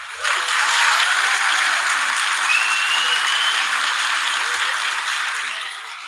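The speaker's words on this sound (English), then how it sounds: "another big clap for you, sir." Sustained applause, dense and steady, fills about six seconds as a cheer for the co-host of a 20th-episode livestream celebration, swelling in quickly and tapering slightly at the end.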